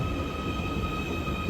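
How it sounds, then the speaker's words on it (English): A Merseyrail train arriving at a station in Liverpool, a steady close rumble of wheels on rails with a sustained high whine from the motors, no talking. "And here comes the train that I will be taking one stop down the line"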